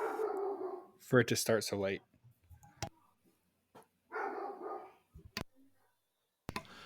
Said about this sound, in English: Sorry, we have a rogue dog.